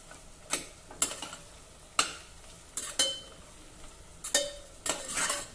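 Potato, onion and green beans stirred together in a pan over a low flame, with a soft background sizzle and a spatula scraping and tapping every second or so, moderately quiet and close with no voices.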